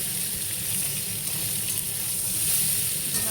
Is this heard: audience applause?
no